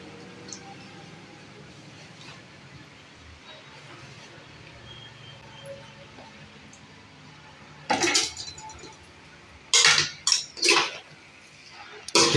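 Chapati noodles tossed with egg in a pan, quiet at first, then several bursts of metal clatter as a utensil scrapes and knocks against the pan near the end.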